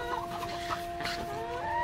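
Dekalb Brown laying hens cluck softly and continuously in a poultry house, a close, low murmur of overlapping clucks and short calls from several birds, with no talking.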